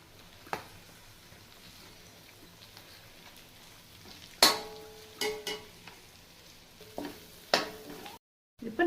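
Okra and green chillies stirred in a masala as they fry in a pan, a quiet steady sizzle broken by several sharp clinks and scrapes of the spoon against the pan.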